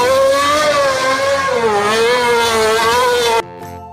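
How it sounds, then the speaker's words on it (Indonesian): A toy Formula 1 race car gives off a steady, close, high-pitched whirring engine tone that wavers slightly for about three and a half seconds and then cuts off abruptly, with no talking over it. "Lihat teman-teman, ada mobil balap Formula 1."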